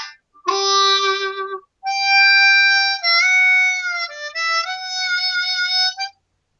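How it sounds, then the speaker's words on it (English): A country tuned harmonica plays sustained single notes in two phrases after a short lead-in, clear and close with a reedy tone, slight pitch bends near the end, and no voices. "Here's a country tuned harmonica."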